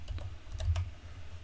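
Several quick keystrokes on a computer keyboard, light close clicks over a low steady room hum, with no talking.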